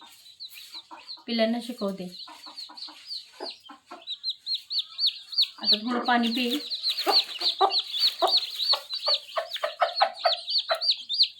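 A hen clucks among a crowd of newly hatched chicks peeping shrilly and steadily, close by, while someone speaks briefly.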